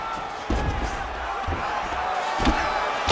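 An arena crowd in a PS5 UFC fight game roars in a continuous swell under commentary, punctuated by several sharp thudding strike impacts.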